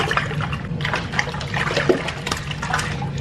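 A baby splashes water in a bath, a steady run of close, choppy watery slaps and sloshes with no pauses for about three seconds.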